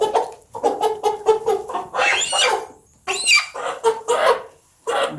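A hen clucks repeatedly at close range in quick bursts, rising into louder squawking calls, separated by short pauses.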